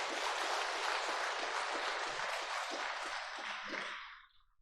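A large audience claps steadily at a Catholic book concert in a church hall, the dense applause holding for several seconds before thinning out and fading at the end.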